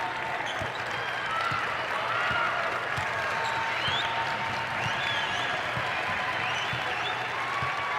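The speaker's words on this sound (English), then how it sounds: "Limited capacity crowd at Mizzou Arena, giving a little bit of life to the Tigers" A limited-capacity crowd at Mizzou Arena applauds during a Missouri versus Tennessee college basketball game, a modest, steady patter of clapping and cheers mixed with repeated ball bounces and squeaks on the court, with no voices heard.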